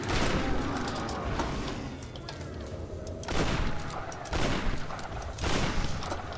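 Sustained rapid gunfire crackles in bursts from the Tomb Raider video game, loud and dense, with brief lulls between volleys and faint voice chatter mixed underneath.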